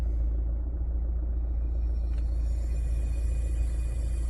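Steady low rumble and hum from a Renault Megane running with its air conditioner just switched on, a continuous near drone with a faint whine and no voices.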